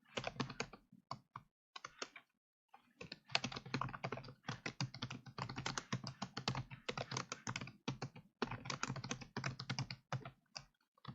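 Computer keyboard keys are tapped in quick irregular runs, including presses of the Enter key, crisp and close with brief pauses, no voices.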